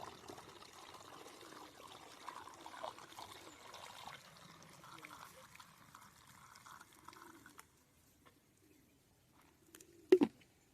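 Water poured and stirred into oil and a soap-oil mixture, a soft trickling and sloshing for several seconds that falls quiet, followed by a brief sharp knock near the end.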